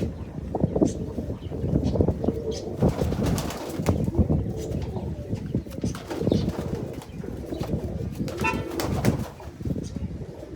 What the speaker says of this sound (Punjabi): ਇਹ ਦਾੜੀ ਵਾਲੇ ਕਬੂਤਰ ਆ ਬਾਈ